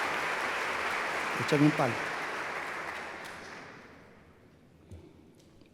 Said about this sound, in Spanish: muchas gracias por los aplausos